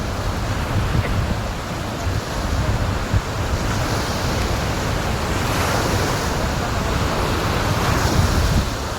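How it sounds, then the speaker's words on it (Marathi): Water pours through six open gates of the Manjara dam in a loud, steady roar that continues without a break, with wind buffeting the microphone. "जबरदस्त पाणी चालू आहे बघा."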